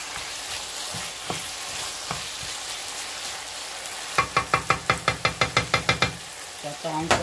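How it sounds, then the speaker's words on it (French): Browned turkey and small vegetables frying in a pan under a steady sizzle, then a quick series of rhythmic knocks and scrapes as a utensil stirs them against the pan, close by. "Là je vais mélanger parce que ça a bien rissolé."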